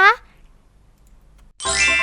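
A subscribe notification bell sound effect: one bright ding at the start that fades quickly, a short silence, then a second louder ringing chime.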